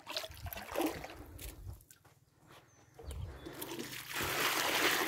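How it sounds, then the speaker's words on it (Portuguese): Water is poured onto the soil around a freshly transplanted bell pepper plant, splashing and trickling close by in uneven bursts with a brief lull, then a louder steady gush. "Vamos testar para ver se quando a gente molhar a água vai correr"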